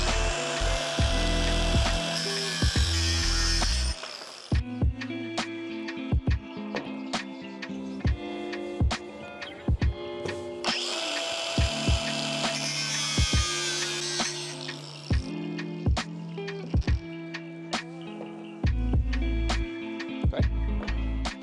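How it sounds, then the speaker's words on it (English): Power tool cutting bolts to length for a DIY VR racing sim build, two loud sustained bursts of broadband cutting noise with a stretch of clicks and handling sounds between them. "now that we've got them marked and lined up, we can start trimming them."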